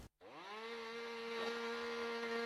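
A chainsaw cutting firewood at a school work day, the engine revving up after a brief gap into a steady, loud whining drone that holds to the end.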